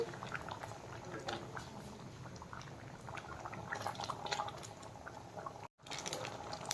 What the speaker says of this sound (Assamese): পানীখিনি অলপ গৰম কৰি লৈছোঁ।